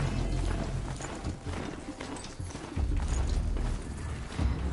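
Hooves of a mounted horse clop along a road in Horizon Zero Dawn, a steady rhythmic clatter close and fairly loud throughout, without speech.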